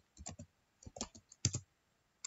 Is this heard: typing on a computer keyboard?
yes